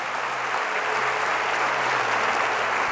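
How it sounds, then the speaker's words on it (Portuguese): Dense, steady applause from a large church congregation, sustained and loud throughout with no pauses. "Aplauda ao Senhor em nome de Jesus."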